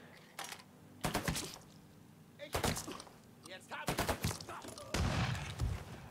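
Bursts of gunfire from the Mafia III video game, several sharp shots in separate volleys aimed at a red canister, fairly close and loud with gaps between.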